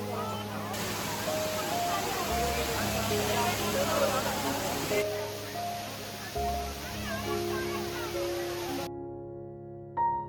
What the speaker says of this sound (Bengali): পাহাড়ের বুকে আছড়ে পড়া ঝর্ণার জলের শব্দ